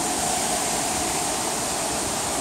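River rushing past the ruins of an abandoned paper mill in Hamburg, a dense, steady broadband roar like falling water, constant and fairly loud with no breaks.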